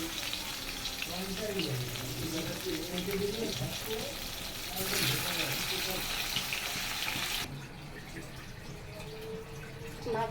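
Fish sizzles in hot oil in a home kitchen, cooked for a cauliflower fish curry: a steady, fairly close frying hiss with crackle and spatter throughout, while a voice speaks over it.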